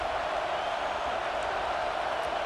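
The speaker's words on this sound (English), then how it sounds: "They've got him pinned deep in their own end, and this crowd trying to help keep them there." Stadium crowd roar from the College Football 26 video game, a steady, dense wash of cheering noise holding level throughout without any break.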